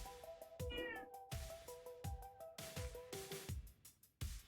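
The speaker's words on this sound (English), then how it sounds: "Kitty's got something to say." A cat meows repeatedly, several distinct close calls of varying length with short gaps between them, loud and clear over a quiet room.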